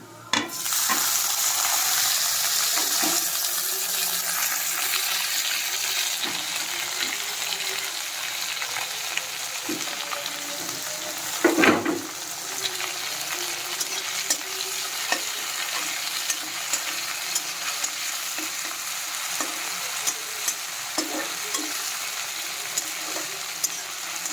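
Chopped tomatoes dropped into a hot pan, an abrupt hiss that settles into a steady, bright frying sizzle, with a brief stirring scrape near the middle and no talk.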